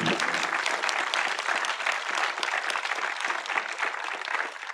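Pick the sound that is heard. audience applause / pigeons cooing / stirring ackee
audience applause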